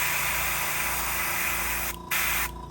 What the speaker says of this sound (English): we're just gonna overspray because I gotta get it done